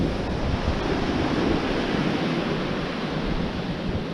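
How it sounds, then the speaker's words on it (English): Strong wind roars steadily over crashing surf on the Bristol Channel shore, a dense continuous rush with no voices. "Still bloody windy here."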